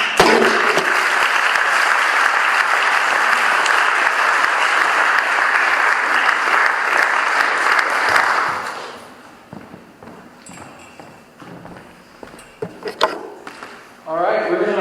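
An audience claps loudly for the speakers at a community talk for roughly eight seconds, then the applause fades into quieter shuffling, knocks and scattered room noise.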